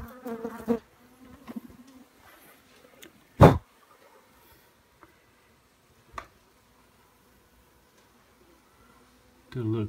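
Wild honey bees cluster around a hive built inside a rental house. A faint buzz sits in an otherwise quiet space, broken by a few sharp knocks and handling noises.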